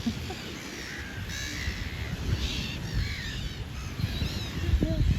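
Several crows caw repeatedly at a moderate distance over a rumbling outdoor background near the Jet d'Eau fountain in Geneva, their harsh calls coming in scattered bursts.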